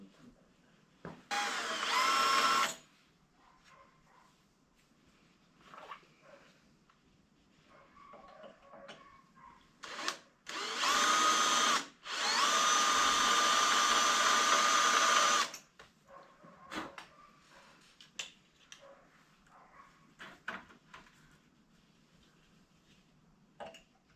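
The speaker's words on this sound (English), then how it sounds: "I hope I can keep the drill straight enough to make this work." A power drill whines in short bursts while drilling into metal on a stripped Honda Gold Wing GL1200 rear shock mount, a brief run followed by two longer ones, with quiet handling noises and clicks in between.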